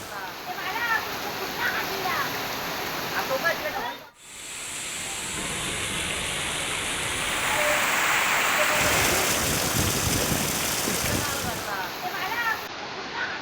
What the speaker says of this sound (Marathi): इतका मुसळधार पाऊस सुरू असताना